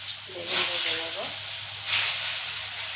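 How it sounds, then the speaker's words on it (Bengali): Brinjal (eggplant) slices frying in hot oil in a kadai give a steady broadband hiss that surges twice as pieces hit the oil, with a faint voice in between. "বেগুন ভেজে নেব।"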